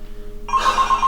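An electronic telephone ring cuts in about halfway through, a steady warbling bell tone repeating in quick pulses over a faint background hum, fairly loud and close with no one speaking.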